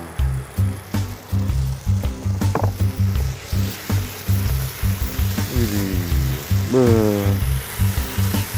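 Oil frying hard on a fast-heating stove while making nasi liwet, a steady loud sizzle with bursts of crackling and spattering, stirring and scraping noises throughout.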